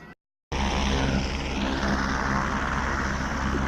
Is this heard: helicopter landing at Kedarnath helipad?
yes